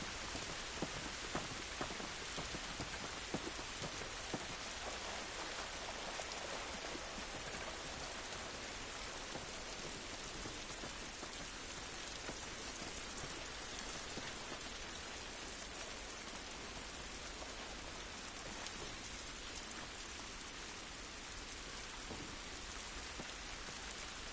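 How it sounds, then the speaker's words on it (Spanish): Heavy rain pours down in a dense, unbroken roar for the whole stretch, with low thunder rumbling underneath and no voices. "Esta lluvia no nos ayudará."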